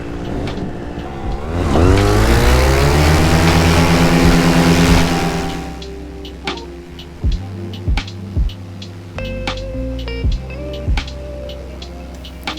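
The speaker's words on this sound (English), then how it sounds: "The engine is warmer now." An Atom 80 paramotor engine revs up loudly at a paramotor club fly-in in Lincolnshire, holding a high buzzing roar for a few seconds before dropping back to a rough idle punctuated by repeated sharp bursts.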